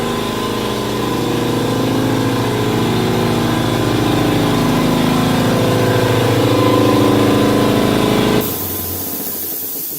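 A garage air compressor runs loud and close, building pressure with a steady droning rattle for about eight seconds before abruptly shutting off, leaving quieter background noise.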